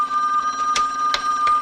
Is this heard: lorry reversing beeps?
no